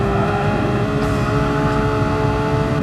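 Porsche race car engine in a racing video game at Autodrome Lago Maggiore, a loud steady engine drone with a brief dip as the throttle is eased, then continuing strongly.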